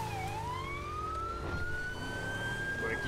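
Ambulance siren wails in the video game GTA 5, a continuous rising and falling electronic tone that stays loud and close throughout with no talk.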